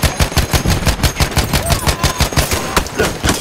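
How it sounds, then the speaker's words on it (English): A BAR 1918A2 machine gun fires in Battlefield 1, a loud, close, rapid burst of evenly spaced shots rattling without pause for several seconds. "Machine gun!"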